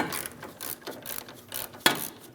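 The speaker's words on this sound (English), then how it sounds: "Remove the nut." A ratchet works a nut off the front control arm of a 2001-2006 Chevrolet Silverado, giving quiet, rapid clicking strokes in short bursts, close by, with a sharper knock near the end.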